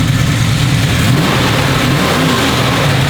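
A loud, throaty V8 engine rumbles and revs up close, a continuous deep roar with rising pitch, no voices heard.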